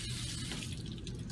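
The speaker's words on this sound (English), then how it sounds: "rinse the impression under cool, running water to remove saliva and debris" Steady rushing cool tap water runs over an alginate dental impression being rinsed, continuous and close throughout.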